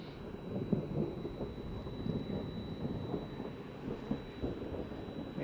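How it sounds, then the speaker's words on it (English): Thunder rumbling low and steady through a storm, a broad distant roll that swells slightly and fades, heard alone against a faint constant whine. "Here comes a thunder."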